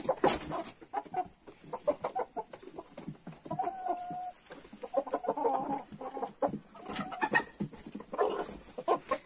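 Several Cobb 500 broiler chickens, including a large rooster, cluck and murmur close by in irregular bursts, with a few louder calls standing out against quiet background.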